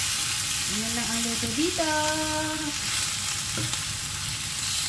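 Garlic and ginger sauté in a hot pan with a steady, close sizzle that runs unbroken beneath a person talking.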